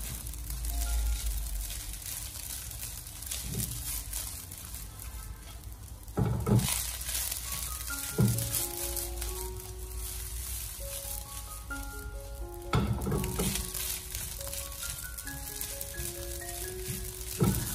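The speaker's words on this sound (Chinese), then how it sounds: "我们需要先把米饭炒热" Cooked rice for egg fried rice is stir-fried in a hot wok, giving a continuous loud sizzle with periodic scraping tosses. Soft background music plays underneath.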